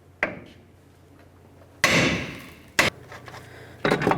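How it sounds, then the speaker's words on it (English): Hammer blows on the steering knuckle of a 1998-2011 Ford Ranger during lower ball joint removal: four sharp metallic strikes, close and loud, unevenly spaced with ringing decay and quiet between. "We're going to bonk right along this area of the knuckle and try to cause some vibration to break this free."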